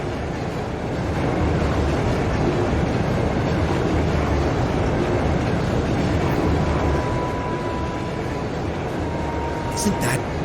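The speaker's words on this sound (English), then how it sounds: "It's a freight train from Bareahard? Looks like it's carrying tanks." A heavily loaded freight train hauling armored tanks in the game Trails of Cold Steel rumbles past as a steady, loud, dense roar with faint rail clatter, a brief higher tone appearing near the end.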